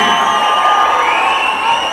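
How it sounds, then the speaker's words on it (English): Dense crowd cheering and shouting fills a packed RRR pre-release film event in Kerala, a steady loud roar with whoops and raised voices running throughout. "I can hear your applause when they shout your name"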